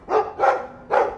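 Mabari war dog from Dragon Age 2 barking three times in quick succession, loud and close, with short gaps between each bark and no talk over it.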